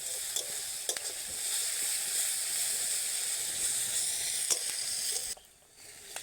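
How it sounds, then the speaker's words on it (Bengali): Onion with ginger and garlic paste frying in a pan for a Bengali prawn-stuffed pointed gourd dish, a steady close sizzle with occasional clicks of stirring, no voices, quieting briefly near the end. "আবারও 2 থেকে 3 মিনিট আদা রসুন পেঁয়াজ সমস্ত কিছু ভেজে নেব"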